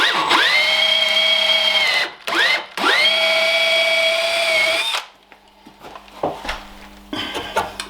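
A power drill bores through a block of wood during mortise-and-tenon joinery, with several loud, close bursts of whining motor and cutting, then quieter handling and tapping sounds at the end.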